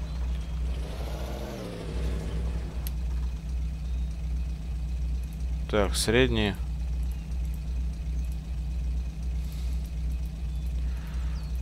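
GAZ-66 truck engine in a SpinTires video game mod, a steady mid-pitched idle running throughout with a couple of short revving rises, while someone talks briefly over it.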